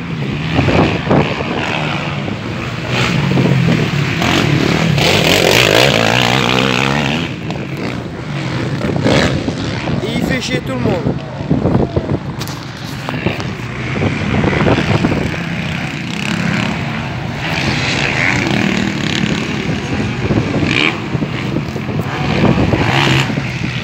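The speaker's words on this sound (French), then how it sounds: "il y a trop de vent" Strong wind buffets an outdoor microphone at a motorcycle race start, a loud continuous broadband roar with gusty swells and crackling bursts, while distant engine noise runs faintly underneath throughout.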